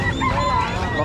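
Goose or turkey calling in a busy outdoor setting, a dense layered honking and gabbling that fills the whole moment with no clear gaps, fairly close and steady, with other fowl chatter mixed in.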